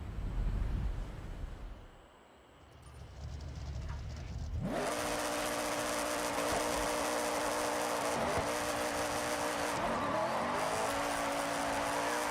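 Mazda Miata racing in the Forza Horizon video game: quiet opening, then a loud, steady engine roar from about five seconds on, with brief tire squeal and pitch shifts through the gears.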